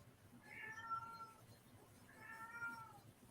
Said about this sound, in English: Oh my God, I hope this cat shut the fuck up.